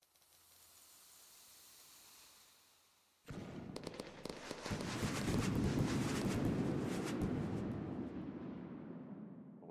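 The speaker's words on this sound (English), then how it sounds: "The single shot salute." A single shot salute firework in the game Pyroworks: a soft hiss gives way to a sudden sharp burst, then a long crackling, sizzling spray that slowly fades.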